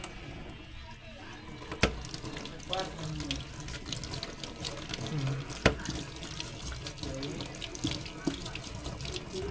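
Tap water running steadily into a barber's wash basin while hair is rinsed, a continuous splashing flow with a couple of sharp knocks and faint voices in the background.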